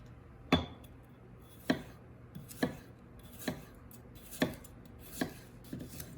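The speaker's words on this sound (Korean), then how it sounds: "일단 채를 얇게 썰어 주셔야 돼요 최대한" A knife chops potatoes into thin julienne strips for a Korean potato pancake, with about eight crisp, sharp blade strikes on a cutting board at an uneven, unhurried pace, close and clear with no talking.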